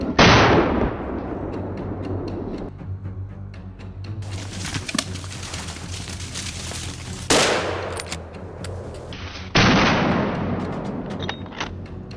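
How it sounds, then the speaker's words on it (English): Gunshots fired at a large beast on farmland ring out in a sequence of loud, sharp reports, each trailing into a long echoing decay, spaced several seconds apart with quieter scattered cracks between. "Seizing the moment, decisive gunshots ring out until the beast staggers."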